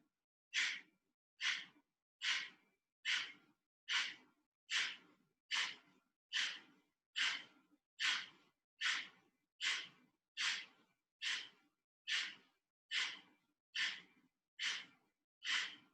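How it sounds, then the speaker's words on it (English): Deep breathing during a yoga breathing exercise, about twenty evenly spaced sharp breaths in a steady rhythm, close and fairly quiet against silence. "Deep breath in"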